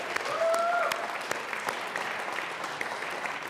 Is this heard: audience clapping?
yes